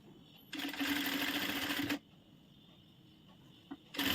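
Sewing machine stitching a back hook blouse, running in one steady burst of about one and a half seconds, a brief tap after it, and another run starting near the end; close and fairly quiet, with no talking.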